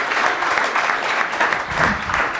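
A crowd breaks into loud, continuous applause at a live business talk, dense clapping swelling slightly in waves across a couple of seconds.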